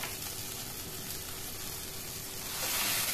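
Marinated chicken hitting hot frying masala in a pan, a dense continuous sizzle and hiss that swells louder toward the end.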